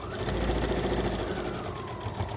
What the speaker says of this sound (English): So we're just going to do the same on this side. Sew down,